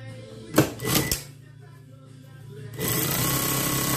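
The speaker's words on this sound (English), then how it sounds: "But now I'm gonna sew the neckline." A sewing machine stitches along a dress neckline, starting with a couple of short bursts, then a quiet pause before a sustained, close run of stitching.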